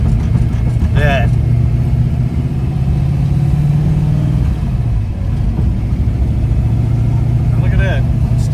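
A vehicle drives down the road with a steady low engine drone and road rumble throughout, fairly loud and close, with a few brief squeaks over the hum.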